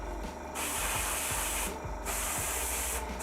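Black spray paint hisses from an aerosol can onto an Imperial Knight miniature in two long bursts and a short final puff, close and steady.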